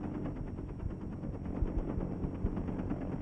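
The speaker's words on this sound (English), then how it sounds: "the artillery begins its preparation fire on the LZ" Artillery preparation fire pounds a helicopter landing zone in Vietnam, a steady stream of dull, rapid thuds and bursts heard from a distance over a low rumble, with no talking.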